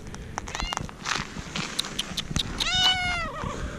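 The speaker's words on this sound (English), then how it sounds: "This cat is so cute." A stray cat at the ancient city of Petra in Jordan lets out a drawn-out meow near the end, preceded by fainter mews over light background noise.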